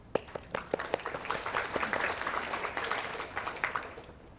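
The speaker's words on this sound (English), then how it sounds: "So give yourselves a round of applause for that." Audience applause at a statewide FASD prevention program meeting, a crowd of hands clapping steadily for several seconds at moderate distance, with a few sharper claps standing out before it thins and fades.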